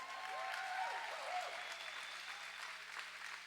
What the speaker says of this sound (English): please give it up for all of our volunteers who make all this possible